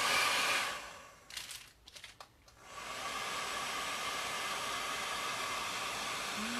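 Hair dryer blowing hot air for a quick dry of house patterns, a steady broadband whoosh that cuts out briefly with a few crinkling bumps, then resumes at an even, continuous roar.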